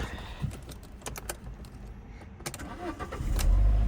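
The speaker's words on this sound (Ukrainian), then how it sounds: "запустимо двигун" A 2008 Alfa Romeo 147 parked for inspection: several sharp clicks from the cabin controls, then the engine cranks and catches near the end, settling into a louder low rumble.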